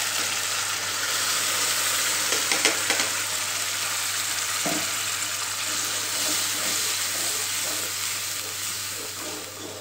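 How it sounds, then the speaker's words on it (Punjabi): Spices tempering in leftover oil for an arbi (taro root) curry give a steady, close sizzle throughout, with a few louder crackles and a spoon knock partway through, and no talking. "ਮੈਂ ਜਿਹੜਾ ਬਚਿਆ ਹੋਇਆ ਤੇਲ ਹੈ ਉਸੇ 'ਚ ਅਸੀਂ ਤੜਕਾ ਲਾ ਦਾਂਗੇ ਹੁਣ"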